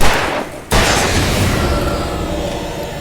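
Gunfire from the Alan Wake Remastered video game, with a loud sharp burst breaking in after a brief lull and continuing as dense, sustained shooting and rumble.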